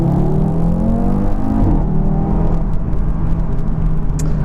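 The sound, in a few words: Audi RS3 saloon full throttle start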